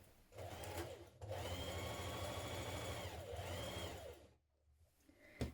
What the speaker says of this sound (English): stitch this with either your overlocker or your zigzag stitch now